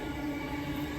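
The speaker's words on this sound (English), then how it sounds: "Last train in the video." Steady, dense rumble and rolling roar of a train passing through Penshurst station on the Sydney rail line, loud and close, unbroken for about a second.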